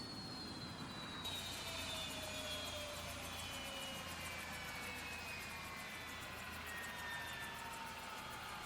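Bell 407 helicopter turbine winding down in the X-Plane 12 simulator, a steady loud whine with descending tones sliding lower over several seconds, broad rushing noise underneath and no voices.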